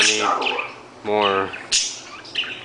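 Pet budgies in cages indoors chirp and warble in short bursts close to the microphone, with a few separate calls spread across a couple of seconds.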